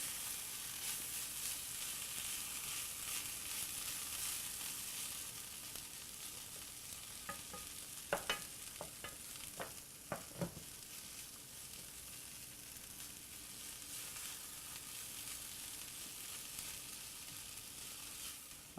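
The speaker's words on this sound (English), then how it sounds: "little bit of oil, and we have chopped up fennel fronds. Okay, we'll get that on the heat" Chopped fennel fronds fry in oil in a pan, a steady close sizzle throughout with a few sharp clinks of a utensil against the pan near the middle; no one speaks.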